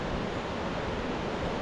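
The Chandrabhaga river in the Pangi Valley rushes past in a steady broadband roar, close and continuous with no voices.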